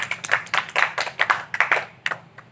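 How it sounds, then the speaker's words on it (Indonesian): A small group claps hands during a career-guidance group counselling session, quick irregular claps close by, steady for a couple of seconds, then thinning out. "tepuk tangan untuk kita"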